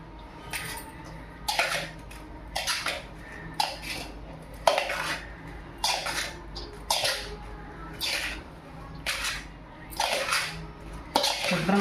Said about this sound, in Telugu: కాలుతుందండి, ముందర గరిటె పెట్టి కలుపుకోనండి